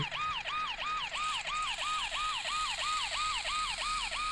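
A Lego police car or fire truck siren in the Roblox game Brook Haven wails in a steady, fast repeating up-and-down cycle, loud and close, with no voices.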